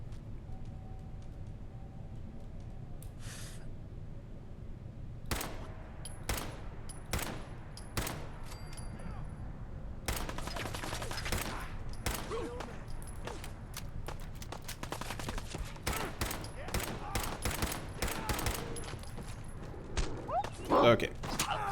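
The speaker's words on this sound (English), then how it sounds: "I can always switch to the nail gun for this." A nail gun fires in Fallout 4 as a string of sharp, separate cracks, several in quick bursts, over a low murky game background with footsteps and movement between shots.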